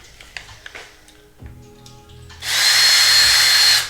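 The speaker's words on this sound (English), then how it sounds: "first we gotta drill some holes in these guys" A power drill runs steadily and loudly at close range while boring holes through metal washers, starting after a few light clicks and handling noises, continuous whine until the end.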